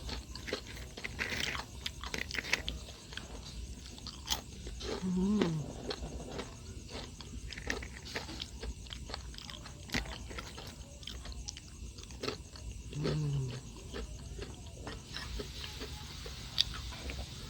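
Homemade banana chips crunching and being chewed, with steady, close mouth sounds and occasional sharper bites over a constant background hiss.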